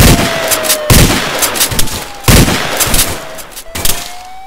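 Several sharp, loud gunshots from the video game ARMA 3 crack out at irregular intervals over a steady background hum, with a faint tone gliding underneath.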